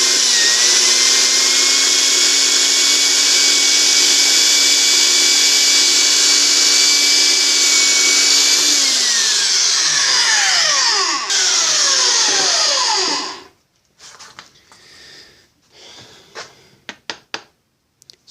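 A portable bandsaw cuts the end off a pen blank, its steady loud whine holding for about nine seconds, then dropping in pitch as the blade winds down and stops, followed by a few light knocks and handling clatter.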